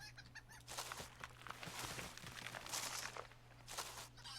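Chickens clucking in a Lord of the Rings video game set in Minas Tirith, busy clucks and squawks repeating over a steady low hum.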